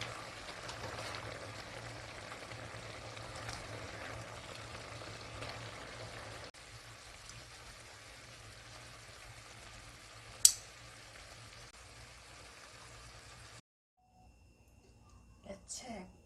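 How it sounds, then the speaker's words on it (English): Braised pork ribs stew simmering in a reducing sauce gives a steady, low bubbling hiss close by, with a sharper clink midway and a stir of utensil noise near the end after the boiling sound cuts out. "So we'll just boil 10 minutes more"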